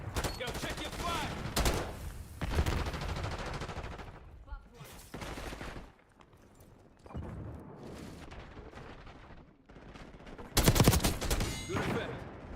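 Rapid gunfire in the video game Call of Duty: Black Ops 6, dense automatic bursts with booms and a heavy blast near the end, loud and close with brief quieter gaps and occasional voices.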